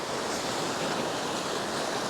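Steady roar of ocean surf washing in continuously at high tide in Lakshadweep, with a rushing wind-like hiss over the whole stretch and no voices.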